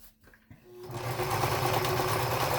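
A sewing machine stitches a two-layer fabric mask, starting after a quiet moment and then whirring steadily and loudly at close range to the end.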